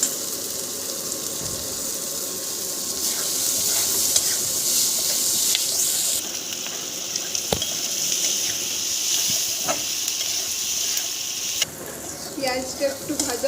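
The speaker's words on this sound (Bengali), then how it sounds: "পেঁয়াজটা দিয়ে একটু ভেজে দেবো" Sliced onions frying in a pan for an achari mushroom recipe, a continuous hiss and sizzle with occasional clinks and scraping of a utensil, heard close.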